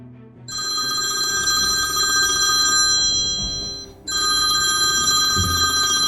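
A telephone rings in a home in a Jaipur neighbourhood skit, a steady electronic ringtone starting after a brief quiet, pausing for a moment, then resuming loud and close.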